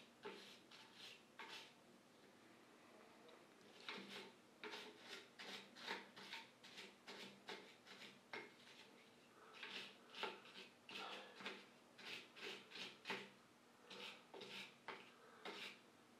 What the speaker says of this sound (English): Let me get this stainless brush since I'm just touching metal.